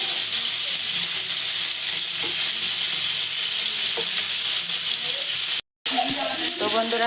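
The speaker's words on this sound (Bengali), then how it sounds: "আমার মাছ ভাজাটা মোটামুটি পর্যায়ে একটা ভাজার চলে আসছে" Fish frying in a pan gives a steady, loud sizzle and hiss, broken by a brief silence and then scraping from turning the fish. No voices can be heard.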